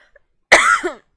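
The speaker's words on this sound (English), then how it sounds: "I'm so sorry I'm coughing so much" A single sharp, close cough bursts out once and stops, followed by silence in an otherwise quiet room.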